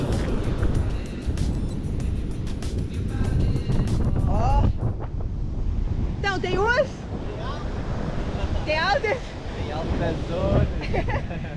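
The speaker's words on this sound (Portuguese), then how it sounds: "desculpa aí o vento" Strong wind buffets the microphone on Praia do Norte beach at Nazaré, with surf rumbling behind it and someone talking over the noise throughout.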